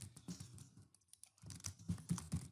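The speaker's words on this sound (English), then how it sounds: "Gonna have to just keep typing, keep typing, keep typing" Computer keyboard typing in quick bursts of close, light clicks, pausing briefly midway before resuming in denser rapid runs, with no talk.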